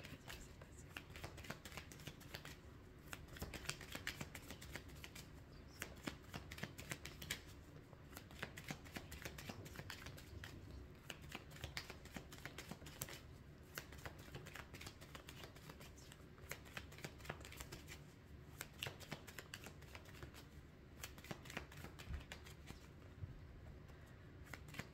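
Tarot cards shuffled at length before a cross spread, a faint, continuous, even papery shuffling with rapid repeated flicks, close and quiet.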